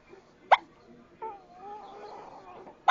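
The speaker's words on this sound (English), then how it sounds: "You have the hiccups." A baby hiccups twice, short sharp bursts about two seconds apart, with soft fussing in between and an adult voice speaking nearby.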